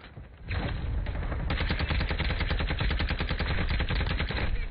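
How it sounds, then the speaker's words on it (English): Sustained automatic gunfire from bots in a video game rattles in a rapid, dense stream, loud and close, after a brief quieter lead-in. "Getting shot by fucking bot."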